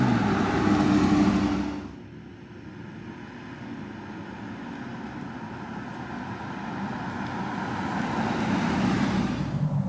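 BMW X5 50i with V8 engine cruising along a road through Brentwood, heard as a steady low engine and tyre roar with road noise, a louder rush at the start before settling into an even, sustained drone.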